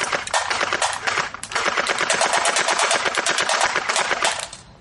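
Rapid automatic bursts from a Hailstorm airsoft BB gun, a dense mechanical rattle of shots that runs almost without pause, loud and close, with no talking.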